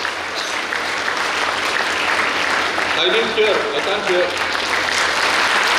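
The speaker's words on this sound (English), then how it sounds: "One round of applause to the patrons who dream of starting medical colleges" An audience at a medical college graduation ceremony applauds the patrons, a continuous bed of clapping with people talking over it.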